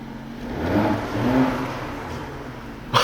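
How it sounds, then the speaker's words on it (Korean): Porsche Cayenne Coupe Platinum Edition with a sports exhaust in Sport Plus mode, accelerating with a steady, loud engine roar that swells, then eases, with a sharp knock near the end. "이 맛에 스포츠 배기를 넣는 것이 아닐까 싶네요."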